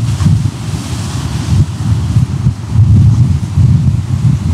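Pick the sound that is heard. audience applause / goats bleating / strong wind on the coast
strong wind on the coast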